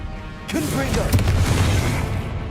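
A Confringo fire blast from a wizard's wand in the game Hogwarts Legacy hits with a deep boom and a rumbling crackle that fades over about two seconds. A voice talks over the blast.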